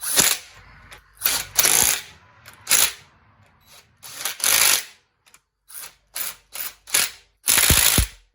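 Torque wrench ratcheting on bolts during final assembly of a 1975 Triumph TR6 engine: a dozen or so crisp, close clicking bursts of varying length, separated by brief silent pauses.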